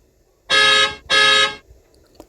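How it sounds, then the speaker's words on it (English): Two loud, blaring car horn blasts sound in quick succession in Kingston traffic, each about half a second long, nearby, followed by quiet. "horns honking"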